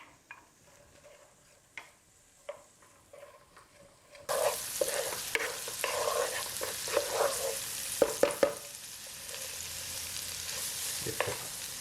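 Onions for a marinara sauce start cooking in a pan: a few scattered utensil clicks first, then a sudden loud steady sizzle as they hit the heat, with stirring scrapes and clanks over it.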